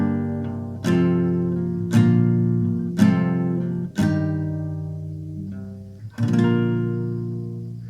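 Acoustic guitar playing the chords of a song, each chord strummed once downward and left ringing; five separate strums spaced about a second apart, close and clear with no talking.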